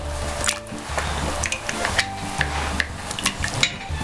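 Spoon swishing and stirring through thick Instant Pot Irish stew with potato, a close series of soft wet scrapes and squishes in an uneven rhythm, with occasional light clinks against the pot and no talking.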